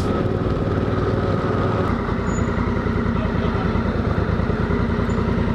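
A Honda Africa Twin motorcycle ridden through the Outback, its engine giving a steady, loud, close drone mixed with wind rush and no break.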